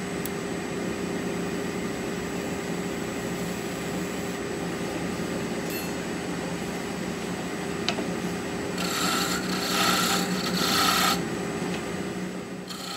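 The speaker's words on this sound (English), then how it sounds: "Start in the center and work to the end using the versatile spindle roughing gouge." A spindle roughing gouge cuts into turning wood on a lathe, a steady, continuous rasping scrape with a constant motor hum beneath it and a brief, brighter surge of cutting near the end.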